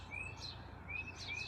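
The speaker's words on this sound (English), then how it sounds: "You can hear the birds chirping." Birds chirp and tweet outside on a front porch on a fine day, a few bright calls rising over quiet outdoor ambience, soft and moderately distant.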